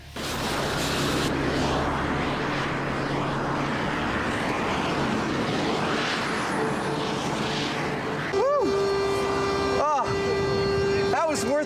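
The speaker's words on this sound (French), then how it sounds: "Là, c'est une vraie décompression explosive." A pressurized airplane cabin, set to match an altitude of 10,000 meters, undergoes explosive decompression: a long steady roar of rushing air, then a sudden sharp burst near the end followed by ringing, wavering tones.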